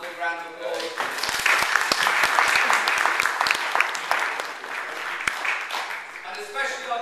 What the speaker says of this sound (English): So I'd like another big round of applause.